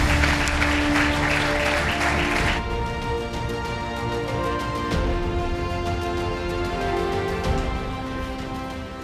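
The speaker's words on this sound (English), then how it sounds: "You can feel it by the applause." Audience applause follows a presentation at a Portuguese-Saudi investment forum, a steady broadband clatter of clapping that stays loud and fairly even throughout, with a slight drop in intensity partway through and faint voices mixed beneath.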